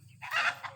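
Chickens on a farm during a chicken chase give a short burst of squawking and clucking, fairly close and loud over a low background hum.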